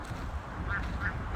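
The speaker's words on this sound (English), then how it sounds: "Y'all see all the ducks swimming?" Ducks quacking at a park pond with geese nearby, a couple of short nasal calls rising out of steady outdoor background noise, moderately near.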